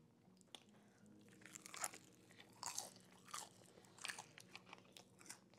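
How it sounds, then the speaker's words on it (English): Close, crisp crunches of biting into Jollibee fried chicken, several bites and chews in a row over a quiet background hum. "Hopefully y'all can hear the crunch too."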